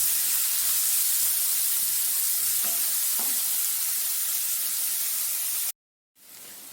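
Garlic cloves, with onion, ginger and green chilli, sautéing in a pan for egg rice: a steady, close, bright sizzle that runs unbroken for most of the stretch, then cuts out briefly near the end.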